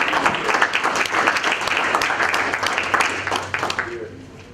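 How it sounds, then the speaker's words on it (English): A round of applause from an audience at a Comanche Nation meeting welcoming new members, dense steady clapping that fills the space, with some murmuring voices mixed in, tapering slightly at the end. "How about a round of applause?"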